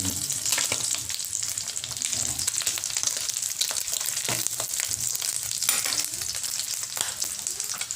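Smoked fish (tinapa) fries in a pan, a steady, dense sizzle and crackle that runs throughout with occasional stirring scrapes and no talking.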